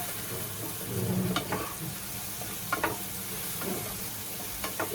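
A spiced vegetable mix with garam masala is sautéed in a pan, giving a steady close sizzle with a few sharp scraping stirs of a spoon against the pan.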